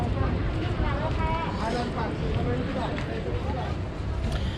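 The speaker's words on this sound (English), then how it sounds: "Quite a few boats coming in." Boats arriving at a busy island port on Koh Phi Phi, Thailand, a steady rumble of engines and water churn with wind buffeting the microphone throughout.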